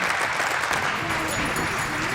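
An audience at a conference applauds a colonel's arrival at the podium, a steady roomful of clapping with a voice briefly audible beneath it.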